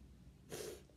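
A single soft, quiet sneeze bursts out midway after a faint hiss of background noise.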